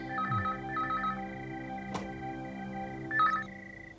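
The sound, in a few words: telephone ringing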